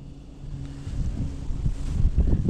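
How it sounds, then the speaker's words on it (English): Gusty wind buffets the microphone with low rumbling roars that build toward the end at a pond in Austin, Texas; no voices. "It's too windy over here."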